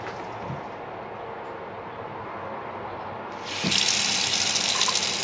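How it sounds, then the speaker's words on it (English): Water runs from a kitchen faucet in an RV, a steady soft stream that swells into a louder, brighter full rush near the end, alone with no voices. "I know that water's loud, I apologize."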